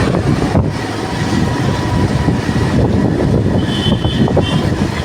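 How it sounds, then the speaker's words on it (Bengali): Strong wind rushes past during a drive in a newly bought car, a loud, close, continuous roar and buffeting that stays steady throughout with no voices. "হাওয়া কি শুনতে পাচ্ছ এত হাওয়া"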